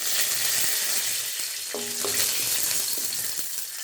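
Cumin seeds and two dried red chillies crackle in hot oil with dal that has already turned golden, giving a steady, close sizzle with a few light stirring clinks midway and no voices.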